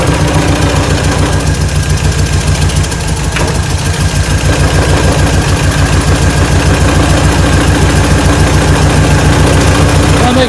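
A 1947 Willys engine idles steadily and loudly up close, a rapid low rhythmic chugging with faint knocking and vibration throughout.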